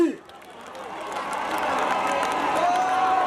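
A crowd at an outdoor political gathering applauding an honourable guest, a dense wash of clapping and cheering that builds and holds, with a voice calling over the start.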